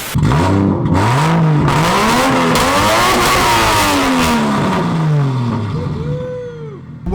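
A 500 hp Nissan S15 Spec R with a swapped 1JZ engine revs loudly and repeatedly, its pitch climbing and falling through several gear changes from inside the car before easing off at the end.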